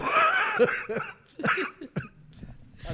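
A burst of close, loud coughs in quick succession from someone recovering from a cough, harsh and rasping, with brief gasps between them.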